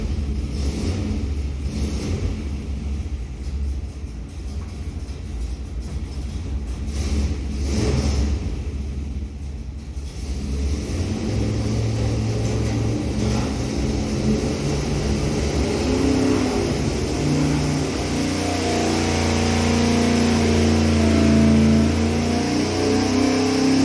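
A 1970 Mopar 440 big block V8 built in 1988 runs on a dyno, first rumbling at a steady lower speed, then climbing into a loud, sustained rev with rising, drawn-out engine tone.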